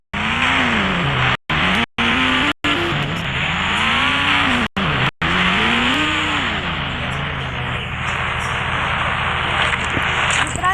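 A car is driven up to a parking spot at a house, its engine rising and falling through repeated revs with brief cutouts and tire noise, loud and close, before settling to a lower hum.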